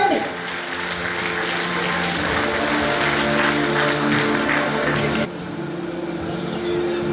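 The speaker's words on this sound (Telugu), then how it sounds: "గట్టిగా చప్పట్లు కొట్టండి" An audience at a school awards ceremony claps in a sustained wash of applause, with a voice speaking over it and a brief drop in level near the end.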